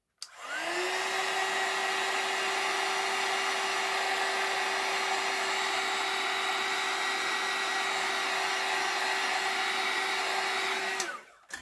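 A hair dryer blasts continuously for about eleven seconds to dry fresh paint on a Christmas craft, a steady close whine with a fixed pitch, switched on at the start and off at the end, with no talking.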